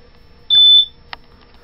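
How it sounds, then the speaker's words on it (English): A single high electronic beep sounds on a 2002 Baja Outlaw 36 boat with part of the power on. It is sharp and clear, lasts about a third of a second, and is followed by a faint click in a quiet cabin. "I got an alarm beeping because I got part of the power on"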